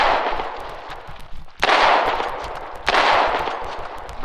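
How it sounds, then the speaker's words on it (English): Gunfire and heavy mortar blasts in a frontline war video game battle, with two big booming impacts and scattered shots crackling throughout, loud and without talk. "We have a couple of mortarmen over here that are firing on any Wardens they can spot."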